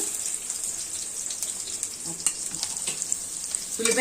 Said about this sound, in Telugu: ఇప్పుడైతే మనం దోరగా వేపుకుందాము.